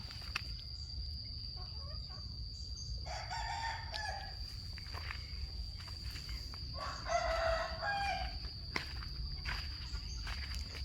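A rooster crows twice in a garden, clear but a little distant, over a steady background hum with a high insect-like whine and some footsteps.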